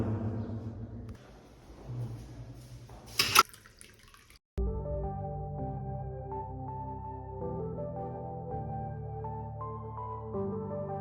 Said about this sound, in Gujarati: પાણી અંદર નથી તો પાણી ભરી નાખું.